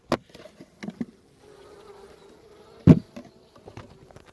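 Honey bees buzzing around a beehive: a continuous droning hum with a few sharp knocks and thuds from the hive being handled.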